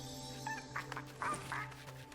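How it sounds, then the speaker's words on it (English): Chickens in the LEGO Fortnite video game give a few soft, nasal clucks and squawks in short bursts over a steady low humming background of game ambience, at low volume. "The chickens make such cute noises."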